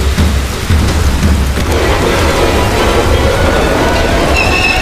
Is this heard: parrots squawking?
no